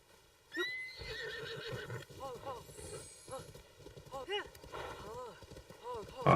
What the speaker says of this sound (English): Awesome, I caught a horse.